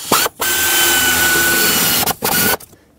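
A power tool whirs on valve cover bolts of a 2011-2016 Ford F-350 with the 6.2L V8, three loud sustained bursts separated by short pauses, the last one brief before it stops.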